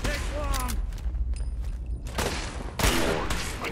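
Dense bursts of gunfire in the Fallout 4 video game, loud and close, with heavy blasts near the end and voices shouting through the shooting.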